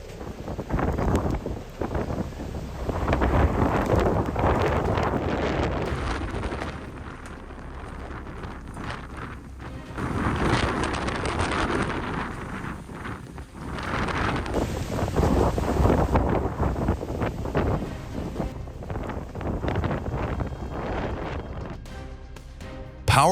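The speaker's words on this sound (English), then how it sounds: "marina boats rocked violently as wind and waves collided" Strong wind buffets a marina where small boats rock violently in colliding waves, with gusty roaring and wind noise on the microphone surging and easing in heavy bursts.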